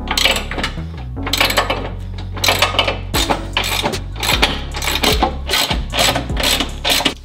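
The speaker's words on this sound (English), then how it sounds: "I'm gonna use my 3/4-inch socket to tighten everything down." Socket wrench tightening Toyota Tacoma skid plate bolts with a 3/4-inch socket, rapid loud clicking ratchet bursts in quick repeated strokes, close and mostly without talk.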